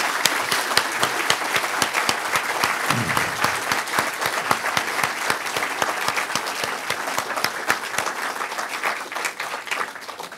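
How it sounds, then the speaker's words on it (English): Sustained crowd applause for Senator Ben Sasse at a live conversation event, many hands clapping densely and loudly, tapering slightly near the end. "a big round of applause for Ben Sasse"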